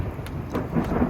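Thunder rumbles during a storm in the Pyrenees mountains, a deep rolling roar with rain hissing steadily underneath and a few sharper cracks, loud and close, without talk.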